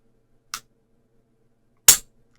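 Two sharp, separate mechanical clicks from the trigger reset of a Springfield Echelon pistol, close and crisp, about one and a half seconds apart with silence between them.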